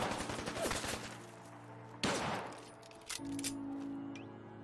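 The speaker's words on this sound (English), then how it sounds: "They're just shooting out into the fog for no reason." Scattered gunshots in Fallout 4 crack out across a foggy wasteland, a loose string of mid-distance shots with a heavier blast around the midpoint and a few sharp clinks near the end.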